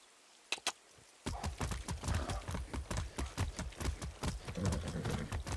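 Hooves of a galloping horse in the open-world shooter Far Cry 6, a couple of isolated thuds then a fast, steady three-beat drumming close up, continuous and fairly loud with no talk over it.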